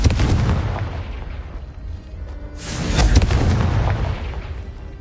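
The Confringo explosive spell from the Hogwarts Legacy video game goes off as two heavy booming blasts, each a loud rumbling burst that decays over a second or two.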